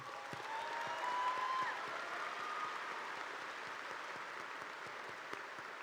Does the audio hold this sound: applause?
yes